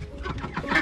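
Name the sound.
chickens clucking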